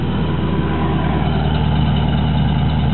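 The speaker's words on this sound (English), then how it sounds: "Talk about the squealing. Serpentine belt." A car with a squealing serpentine belt idles close by, giving a steady, loud, low engine rumble with a faint tonal whine over the short stretch and no talk.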